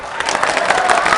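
Students at a Ugadi celebration at Guru Nanak College break into a brief, loud burst of clapping and cheering for a fellow student, close and dense throughout.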